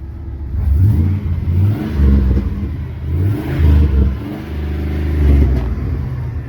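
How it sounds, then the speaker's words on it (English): A restored 2001 Chevrolet Silverado 2500 HD with the 8.1 big block V8 revs up close by, deep throaty rumbles that rise and fall in several pushes through the muffler, loud and without talk. "I'm gonna show you how to rev up."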